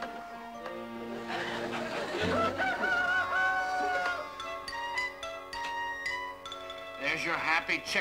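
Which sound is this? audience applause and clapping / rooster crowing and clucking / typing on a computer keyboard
rooster crowing and clucking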